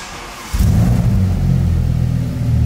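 An Audi RS6 engine idling with a low, steady rumble that jumps in loudness about half a second in as the gear is engaged, then holds a deep, even drone close by.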